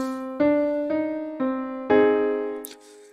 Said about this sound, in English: They are both sourced from noodling around on the piano